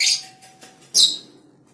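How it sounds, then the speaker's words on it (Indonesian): Kacer (oriental magpie-robin) birds chirping noisily in a breeding setup, two short bright bursts of calls close by with a quieter gap between. "maaf ini suara burung terlalu ramai."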